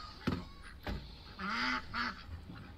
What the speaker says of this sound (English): He's the sassiest duck.